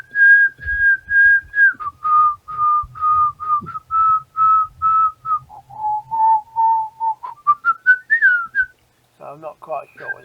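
A person whistles a clear, tuneful melody of short repeated notes that step down and then climb, played loud and close for an AI music generator, ending in a brief pause and a few softer trailing sounds.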